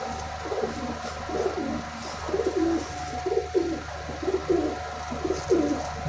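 Malwai pigeons, a Punjabi breed, cooing in repeated soft rolling phrases at close range, a steady rhythm of low throaty coos over faint background hum with no talk.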